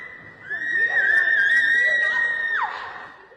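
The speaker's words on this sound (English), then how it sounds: "Yeah, she's screaming." A woman screams in a recorded clip as she sprints through an open door, a long sustained high-pitched cry lasting about two seconds that breaks off with a falling pitch at the end.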